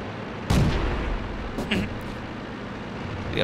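Bullets striking a tank in World of Tanks, a sharp loud impact followed by a few fainter hits over a steady engine rumble.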